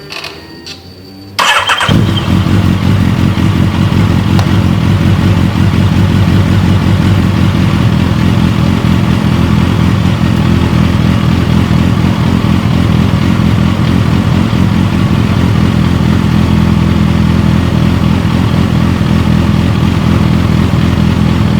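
A Yamaha FZ8 motorcycle with a generator fault starts up and settles into a loud, close, steady idle that runs unbroken for about twenty seconds.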